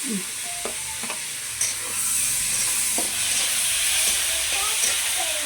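Tomatoes fry in a pan with a bright, steady hiss and sizzle, broken by occasional scraping stirs close by, with no one talking.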